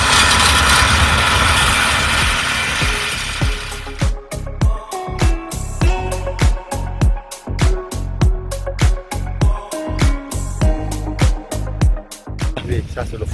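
A tractor runs with farm machinery attached during mowing work: a steady broad roar at first, then a series of loud rhythmic thumping pulses close by.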